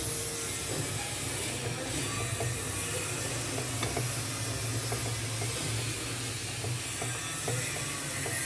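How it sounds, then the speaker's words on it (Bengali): Chicken with ground almond paste and spices being stirred in a sizzling pan, a steady hiss under faint scraping and clinking, with no talk. "ভালো করে মিশিয়ে নেব চিকেনটার সাথে।"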